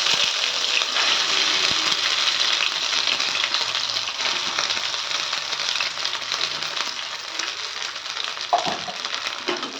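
Grated ginger sautéing in hot oil for a ginger pickle, with a loud, steady, close sizzle and a few faint stirring scrapes, no voices.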